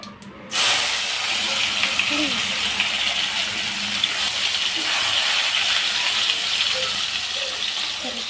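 Tomato drops into a hot pan and bursts into a loud, steady hiss of sizzling steam that holds for several seconds after a brief quiet start.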